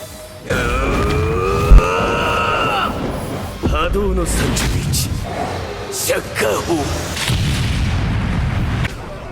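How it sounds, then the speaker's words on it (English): A Soul Bomb explodes in Bleach Brave Souls with a loud game boom, followed by a dense layer of battle effects, swooshes and character cries that continue for several seconds. "And I'll go ahead and pop the Soul Bomb."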